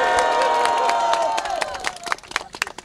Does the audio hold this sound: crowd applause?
yes